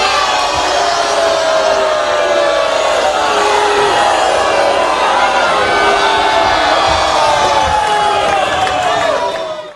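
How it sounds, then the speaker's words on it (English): Blood Bowl video game stadium crowd roaring and booing in disapproval, a loud, dense wall of voices sustained throughout without letup. "Crowd, of course, not happy with that"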